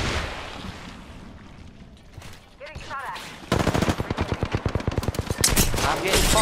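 Apex Legends firefight, with a rapid automatic weapon firing a long, evenly spaced burst of loud close shots that follows quieter, muffled ambience, and speech around it.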